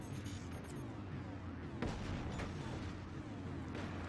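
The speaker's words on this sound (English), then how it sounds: "Cannons and howitzers with their AoE splash damage will definitely drain the resources from these guys." Cannons and howitzers in a strategy video game fire in a dense, continuous barrage, with repeated booms and bursts layered over a rumbling battle backdrop.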